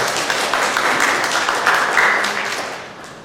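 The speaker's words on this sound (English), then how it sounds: "if everyone would please give our volunteers a round of applause" An audience claps for the volunteers at an outdoor JazZooLA jazz concert. The applause is a dense, steady wash that holds for a few seconds and then begins to fade.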